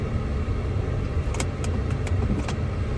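A Buick car drives along with a steady low engine and road rumble, with a few faint light clinks and jingles inside the cabin.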